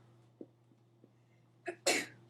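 A single sharp sneeze from a student in a classroom, with a short catch of breath just before it, standing out loudly against a quiet room hum and a few faint knocks.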